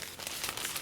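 Crinkling plastic packaging as a Womier K66 Gateron RGB mechanical keyboard is pulled out, a brief, close rustle filling the moment with no talking.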